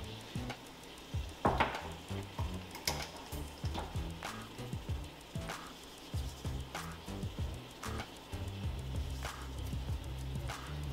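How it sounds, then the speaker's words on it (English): Tomatoes cook for dal in an Instant Pot, giving a soft, steady sizzle broken by repeated clicks and knocks from stirring, close by and fairly quiet. "we're going to be adding in the tomatoes next and cooking these for another 7 minutes as well"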